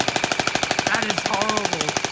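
Full-auto bursts from a Honey Badger rifle in a video game, the shots coming in a rapid, even mechanical rhythm through the whole stretch, with a few brief tonal game sounds partway through.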